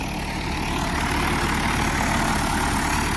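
A tractor pulls a combined cultivator, its heavy engine running with a constant, dense, low rumble. The sound is close and steady throughout, with no voices.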